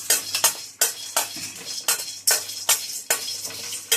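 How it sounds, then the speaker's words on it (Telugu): Whole cloves and cardamom pods dry-roasting in a pan for a simple masala, heard as a steady series of crisp scraping, rattling stirs roughly every half second, close and moderately loud with no talking. "లవంగాలు వేసుకోవాలి. అవి కొంచెం ఫ్రై అయిన తర్వాత యాలకులు."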